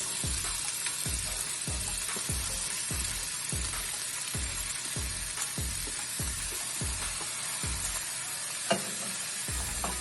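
Green peas tossed into a hot Hakka noodle stir-fry for Indo-Chinese street food, with a constant loud sizzle and rhythmic scraping strokes roughly twice a second.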